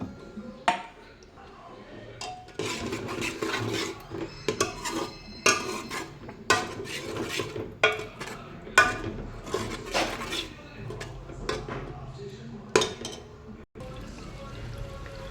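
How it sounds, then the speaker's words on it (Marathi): Masala spice paste being stirred and sautéed in oil in a metal pan for a Khandeshi mutton dish, with repeated scraping and clinking of a spoon against the pan, irregular and close, over a steady low sizzle. "मसाला आता छानपैकी परतवला आहे"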